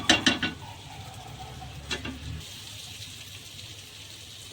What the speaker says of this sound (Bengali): তো আমি কাজু পোস্ত মশলা ধোয়ার জলটা দিয়ে দিলাম।